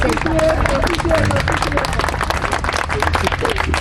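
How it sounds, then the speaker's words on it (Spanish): Audience applause at a talk on the 1917 Constitution, loud and continuous clapping mixed with crowd murmur and voices talking over it throughout. "Un aplauso porque por primera vez en un año una joven toma la palabra"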